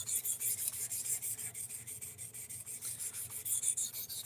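Rex 121 steel knife edge rubbed back and forth on a sharpening stone, close rhythmic rasping strokes repeating steadily without talk.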